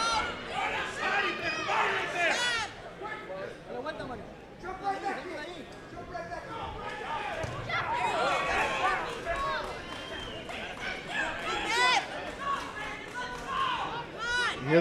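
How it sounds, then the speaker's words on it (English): Boxing crowd at a Thompson Boxing fight night cheering and urging on fighter Brandon, a dense, continuous roar of many voices with swelling shouts under ringside commentary. "You hear the crowd urging Brandon"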